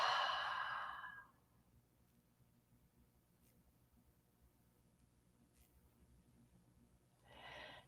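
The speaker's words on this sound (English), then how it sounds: "take a deep breath in. And give a deep breath out" A deep, slow breath exhaled in a quiet room during guided meditation, a long soft airy whoosh that fades out, then a second breath rises faintly near the end over near silence.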